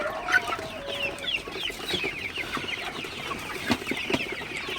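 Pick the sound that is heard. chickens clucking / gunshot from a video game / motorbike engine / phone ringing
chickens clucking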